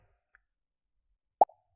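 In a Scratch project, a single short balloon pop sound effect sounds once, a crisp isolated plop in near silence.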